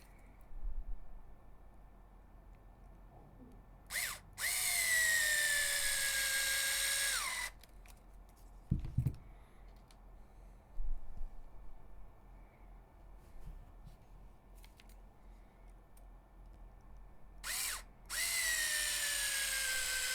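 A power drill drives 10 mm screws into an HPI Venture SBK RC model in two short whirring bursts that rise and fall in pitch, separated by quiet handling clicks and small taps.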